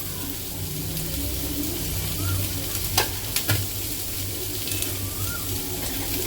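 Onion, red and yellow bell peppers and tomato sauté in a pan, a continuous sizzle with a couple of sharp stirring clinks near the middle, close and steady.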